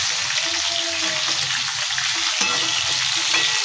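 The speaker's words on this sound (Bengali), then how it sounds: "মাংসটা পুরো লাল লাল করে ভেজে নিয়েছে" Meat fries in a pan, browned like chilli chicken, with a loud, steady, close sizzle and some stirring throughout, and no one speaking.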